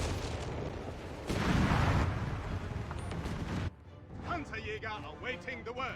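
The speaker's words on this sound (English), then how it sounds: "do an airburst barrage over here" An artillery airburst barrage in Company of Heroes 3 rumbles through as loud overlapping booms and crackling blasts, peaking in a heavy burst, then gives way to someone talking over fainter battle noise.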